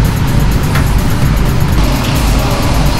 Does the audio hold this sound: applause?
no